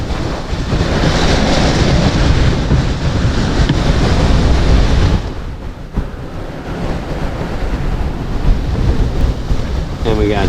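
A sailboat's bow plunges into ocean waves under sail at better than six knots, giving a loud roaring wash of water and wind that swells over the first five seconds, then eases into steady rushing spray.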